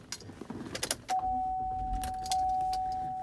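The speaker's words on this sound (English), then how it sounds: "If we go ahead and start the vehicle," A 2015 GMC Acadia Denali starts up after a quick jingle of keys, followed by a steady engine hum and a thin electronic tone from the cabin.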